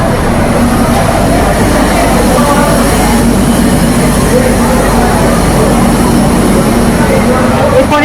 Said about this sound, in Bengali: অবশেষে ট্রেন এসে দাঁড়ালো সাঁতরাগাছি স্টেশনে।